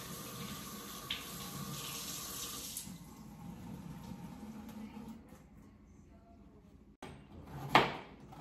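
Water runs from a kitchen tap as food is rinsed under it, a steady close wash that thins out midway, followed by a sharp knock and a brief splash near the end.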